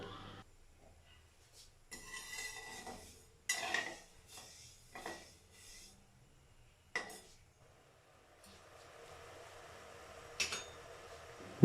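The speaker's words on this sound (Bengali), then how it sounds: "গরম পাত্রে হাফ বাটি চিনি নিচ্ছি চিনির মাপের অর্ধেক জল নিচ্ছি এবার তাপ দিয়ে ধীরে ধীরে নাড়াচাড়া করে এটা আমরা একটা চিনির শিরা বানিয়ে ফেলবো" A spoon scrapes and clinks against a hot pan as half a bowl of sugar and half as much water are stirred slowly into syrup. Scattered, fairly quiet clinks and scrapes come in short bursts separated by near silence.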